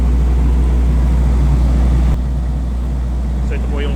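A Shindaiwa DG259MI 25 kVA diesel generator runs with a loud, steady low drone; midway the engine note drops abruptly to a lower, quieter hum that keeps going.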